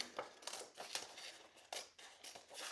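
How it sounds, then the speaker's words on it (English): Several crisp scissor snips cutting through paper, close by, in an uneven rhythm with short pauses between cuts. "So we're going to take our scissors, we're going to cut out another"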